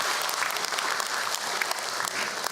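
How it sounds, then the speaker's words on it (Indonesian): An audience of women applauds at a religious talk, dense, steady clapping that fills the whole stretch at an even level with no voices standing out. "Tepuk tangan buat ibu-ibu semua yang hadir hari ini"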